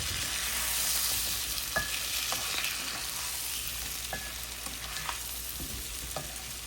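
Washed, drained taro stalks go into a pan where a masala for an ilish fish curry has been cooked down. They fry with a steady close sizzle, and sharp spatula scrapes and clinks sound intermittently as they are stirred.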